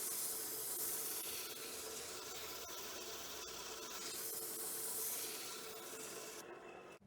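A wooden footprint bowl is sanded with 240 grit sandpaper on the lathe, a continuous close, hissing rub with slow swells in intensity that ends abruptly.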